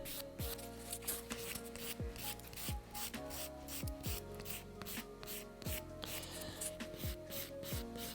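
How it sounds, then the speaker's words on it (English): A nail file with a 240-grit 2-in-1 file side gently rasps hard gel off fingernails in short, regular strokes of close, soft scraping about once per second, with no talking. "I'm going to switch back to the file side of my 240 2-in-1. And just go very gently."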